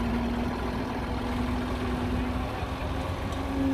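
A tractor engine runs steadily at a low idle while the tractor is unloaded from the top of a trolley, a continuous near drone with a faint whine and no talk.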